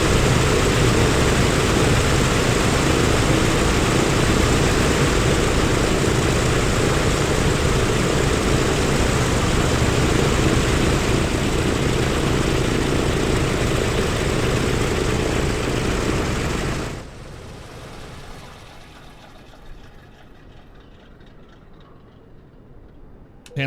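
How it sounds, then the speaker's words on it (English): Propeller engines of a Douglas DC-6A in a flight simulator drone loud and steady, then shut down around seventeen seconds, the roar dropping to a low fading rumble. "He'll kill the engines for us."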